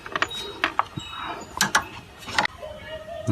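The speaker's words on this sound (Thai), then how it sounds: "นี่ก็จะไขควงอ่ะบิดไขล็อกให้มันยึดฝาเครื่องนะ" A screwdriver twists a clip to lock the engine cover on a Honda Civic FD, making scattered close mechanical clicks and ratcheting scrapes, with a few sharp taps between.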